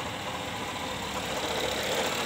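A Honda Jazz GK engine runs steadily at idle after electrical repairs following flood damage, a continuous close, slightly rough mechanical drone with no talk over it.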